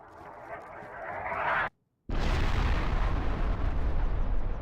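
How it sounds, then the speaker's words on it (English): Mortar launch in the survival game DayZ: a rumbling boom builds, cuts to a brief silence, then a loud, sustained blast roars on heavily to the end. "That giant explosion you just heard was them launching a mortar"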